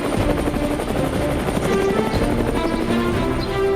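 An Indian Air Force helicopter flies low over a small, remote drop zone in Arunachal Pradesh, its rotor thumping in a fast, steady chop beneath a loud, continuous engine whine, close and unbroken.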